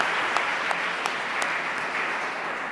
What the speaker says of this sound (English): let's give everybody who participated a round of applause